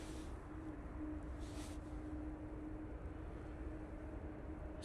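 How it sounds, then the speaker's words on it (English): A Finnair Embraer E190 LR airliner arriving at Manchester Airport after a flight from Helsinki, heard as a steady, moderately distant jet roar with a constant low hum, alone without voices. "Finnair now coming in using their E190 LR"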